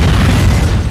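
A loud film explosion blasts continuously, a dense, rumbling roar with heavy low-end boom that fills the full second without pause or speech.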